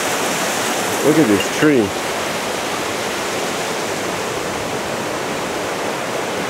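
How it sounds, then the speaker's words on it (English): A mountain waterfall pours steadily beside an abandoned farm road in Japan in spring, a broad continuous rush of tumbling water close by, with someone briefly speaking over it early on. "Oh, beautiful falls. Very, very nice. Water tumbling all about."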